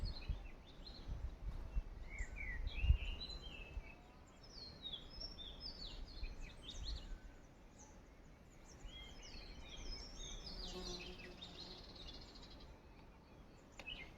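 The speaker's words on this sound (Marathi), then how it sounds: "पक्ष्यांचा किलबिलाट सगळं चालू आहे बघा" Birds chirp and call around a vegetable farm with okra plants, scattered faint twitters and short trills rising over a quiet outdoor background, with a few soft knocks early on and no speech.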